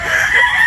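A broodstag rooster crows loudly and close, a sustained strained call filling the whole short moment.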